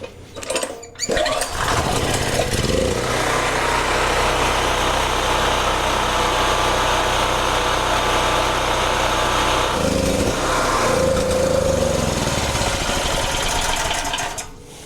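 A Wen Power Pro 3500 portable generator runs loud and steady with a buzzing engine drone after a brief start. The pitch shifts slightly near the end, and no one speaks.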